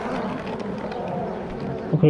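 Honeybees buzz steadily at an opened apiary hive during early spring work, a dense close drone filling the whole stretch with a short louder burst at the end.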